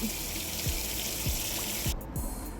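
Tap water runs steadily into a sink while peeled potatoes are rinsed, a continuous close hiss of flowing water with a few soft knocks underneath, ending in a brief break; no talking.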